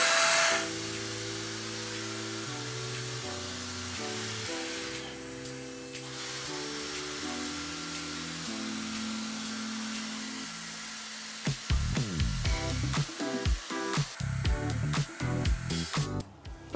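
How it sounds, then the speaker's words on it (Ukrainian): An electric hair dryer with three heat settings whirs with a steady motor tone that shifts pitch between settings, then sputters and pulses unevenly near the end as its energy-saving auto shut-off kicks in. "Не користуюсь феном декілька секунд, і він сам автоматично виключається."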